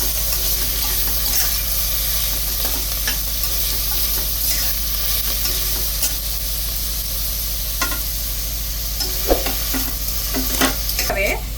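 Mint and coriander leaves being stirred and sautéed in a pan for mutton nonbu kanji, a steady close sizzle with scraping stirs and small crackles, no talk.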